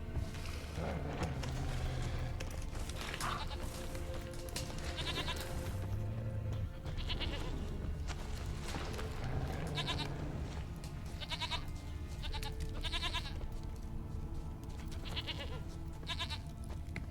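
Goats in The Witcher 3 video game, with repeated short bleats recurring every second or two over a continuous ambient background, fairly close and clear.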